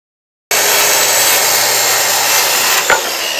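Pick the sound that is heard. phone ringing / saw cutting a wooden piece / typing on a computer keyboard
saw cutting a wooden piece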